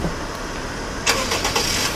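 A Mercedes-Benz engine starts remotely from a smartphone app: quiet ambient hum, then a brief cranking burst and catch about halfway through, settling into a low idle.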